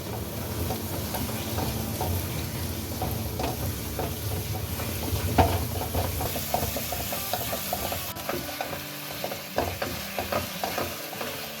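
Carrot halwa being stirred in a pan after cardamom powder and peeled almonds go in, with loud, continuous scraping and sizzling close up and brief knocks of the spoon, no talking.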